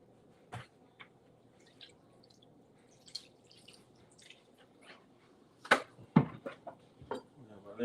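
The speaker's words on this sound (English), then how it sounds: "Pour some vinegar on it." Vinegar poured onto food comes through as sparse, faint wet drips and small splashes, scattered quietly at first and then clustering into a few louder spatters near the end.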